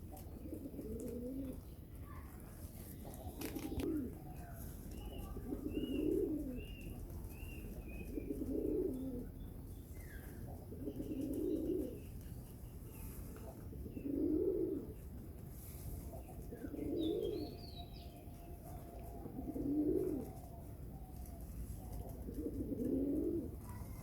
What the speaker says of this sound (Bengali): কবুতর সব এখন লাল কবুতর, অন্য কোনো কবুতর নাই।